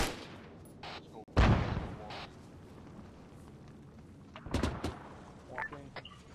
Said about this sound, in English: Triple A fire to our southeast. On ZSU-23.